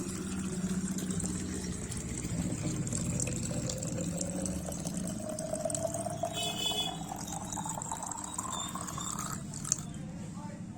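A water can being filled with water in a village, a continuous gurgling stream whose pitch rises steadily as the container fills, with a brief clatter near the end.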